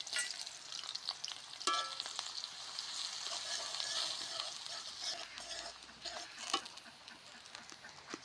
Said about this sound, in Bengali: পরিমাণ মতো তেল দিয়ে পেঁয়াজ কাঁচামরিচগুলি দিয়ে কিছুক্ষণ ভেজে নেব।